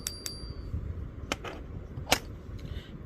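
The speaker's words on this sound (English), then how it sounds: "If you'll notice, they all have that certain kind of ping to them." Two quick taps on a silver coin in a ping test ring out briefly with a clear high metallic tone. A few duller, scattered clicks and knocks follow close by in a quiet room.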